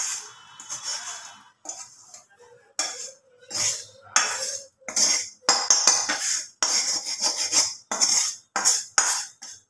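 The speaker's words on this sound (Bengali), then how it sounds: "এই প্লেটটার মধ্যে আমি এই পুরটা ঢেলে নেব।" Cooked filling scraped from a pan onto a plate, a series of irregular metallic clinks and scrapes of a utensil against cookware, close and sharp with short pauses between strokes.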